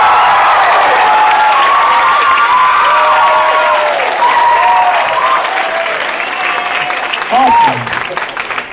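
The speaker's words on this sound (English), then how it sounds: "let's try a 10 applause." Loud, enthusiastic audience applause at a comedy show, dense clapping mixed with cheers and whoops throughout, and a voice briefly speaking over the crowd near the end.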